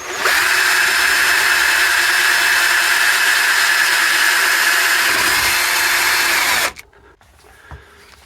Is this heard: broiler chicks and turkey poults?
no